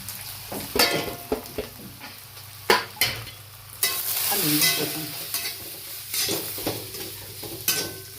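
Spices, curry leaves and mustard seeds sizzle and crackle in hot oil in a pan for a Maharashtrian katachi amti, with repeated scraping stirs and spoon clinks against the vessel over a continuous frying hiss.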